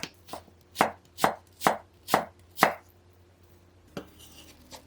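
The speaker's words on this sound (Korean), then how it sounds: "사과는 채 썰어 줄게요." Six crisp, evenly spaced knife chops on a cutting board while julienning an apple, then a pause and a couple of softer cuts and scraping.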